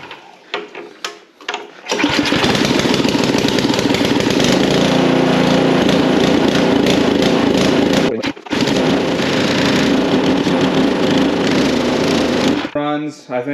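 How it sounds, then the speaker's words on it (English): A small engine runs steadily and loud with a slightly surging idle during renovation of an abandoned garage, cutting briefly near the middle, with talk before it starts and after it stops. "it started on the first attempt, but we still have a little bit of an idle surge here"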